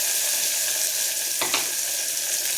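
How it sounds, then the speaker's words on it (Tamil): Onions fry in a pan for a Chettinad-style country chicken soup, giving a steady, bright sizzle. A single quick scrape of stirring cuts through the frying partway in, and there is no talk. "வெங்காயம் போட்டுக்குவோம் வெங்காயம் நல்லா வரணும்"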